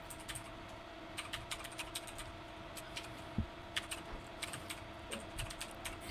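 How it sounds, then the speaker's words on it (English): Fingers tapping out an email address on a computer keyboard, a soft run of irregular light clicks over a steady low hum of room noise, fairly quiet and close. "you're going to type in your email address"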